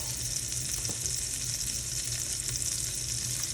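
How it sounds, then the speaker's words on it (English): Jalapeño rounds fry in hot bacon grease with a little salt, giving a steady, close crackling sizzle that holds evenly throughout with no talking. "So we're gonna throw this into the bacon grease or oil if that's what you have."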